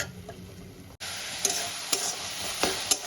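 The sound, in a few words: spice paste frying and being stirred in a pan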